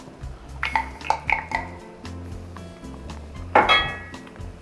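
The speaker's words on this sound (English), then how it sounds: "All right, so I'm gonna add the peas. These are frozen peas, just 1 cup." Frozen peas, one cup, tipped into a pan of mushroom stroganoff, giving a few light clinks and rattles early on and a sharper clatter near the end.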